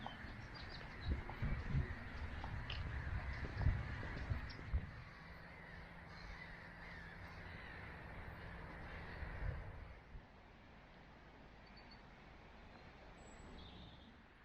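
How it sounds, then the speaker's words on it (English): Hundreds of gulls call and squawk at once, a dense noisy chorus of harsh cries nearby that thins out in the final seconds, with no voices. "Hundreds and hundreds of seagulls."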